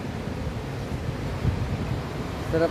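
Sea breeze at a beach in Camarines Norte: steady, rumbling wind buffeting the microphone with a low roar of surf, and a brief voice near the end.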